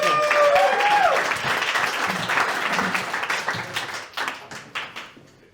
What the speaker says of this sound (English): round of applause for our players one more time